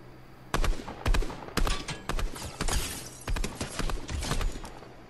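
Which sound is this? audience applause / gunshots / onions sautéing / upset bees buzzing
gunshots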